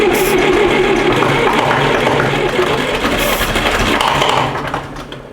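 A Massey Ferguson MF35 tractor with a cold engine is cranked over, a dense, loud mechanical churning and rattle that carries steadily throughout before easing slightly toward the end, with no talking.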